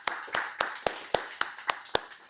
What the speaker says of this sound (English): Big applause to Vadim.